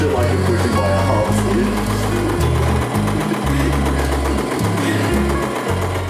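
A sewing machine stitches around the edges of a homemade apron, its loud, fast mechanical chatter running steadily throughout with brief pauses and speed changes, close up.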